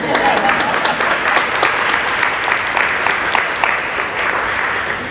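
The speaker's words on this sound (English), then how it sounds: "David, now we can give you a round of applause." An audience at a Rhode Island food bank event claps in steady, sustained applause that fills the space for several seconds at close range.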